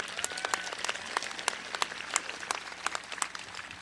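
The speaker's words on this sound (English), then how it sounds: "give Ricky, a big round of applause." Steady applause from an audience at a career center senior celebration, many hands clapping at a moderate distance, sustained and even throughout without any voices on top.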